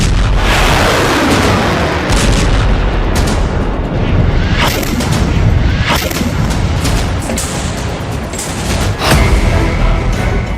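Explosions from a Hezbollah attack, heavy booming blasts and crackling bursts rolling one after another, loud and reverberant throughout, with no speech.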